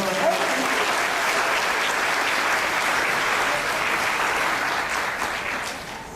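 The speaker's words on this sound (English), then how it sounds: "Can we have a round of applause for Carol?" An audience applauds a woman named Carol at an Alzheimer's summit, a sustained wash of many hands clapping that holds steady for several seconds and fades near the end, with some voices mixed in.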